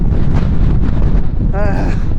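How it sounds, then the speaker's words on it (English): Heavy storm wind buffets the microphone with a steady low rumble, and a brief tonal whistle or voice-like sound rises near the end. "It is quite windy"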